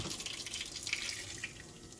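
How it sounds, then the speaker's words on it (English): Vinegar and baking soda pour steadily into a sheet pan with a bright, hissing, fizzy splash throughout, close by and fairly quiet. "let's pour it in the pan"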